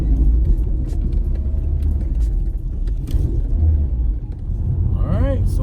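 A BMW E36 318ti rolls along on newly fitted Maxpeedingrods coilovers, its steady low road rumble and engine drone filling the cabin, with a voice talking over it throughout.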